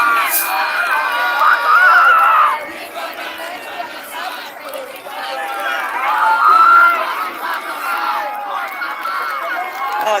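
Protesters at a street demonstration in Canberra screaming and shouting, a dense crowd din of raised voices and yells that swells and dips over several seconds, mixed with chatter.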